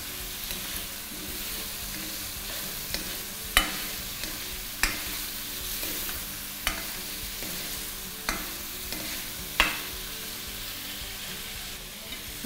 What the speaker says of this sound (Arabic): بدنا نحط البصل، قطعناه برضو قطع كبيره ونقلب شوي